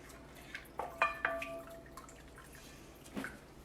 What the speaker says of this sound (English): And now I'm going to add 1 cup of my hot water.